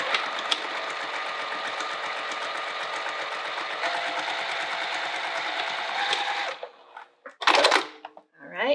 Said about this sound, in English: And now I'm just going to sew along this bottom edge within the seam allowance